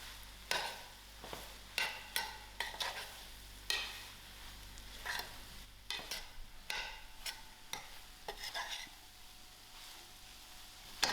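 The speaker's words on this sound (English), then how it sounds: "I'm going to give this mealie rice a good mix to my curry." A spoon stirs mealie rice into curry in a pot, making soft scraping strokes and clinks against the metal, with faint sizzling beneath and no talking.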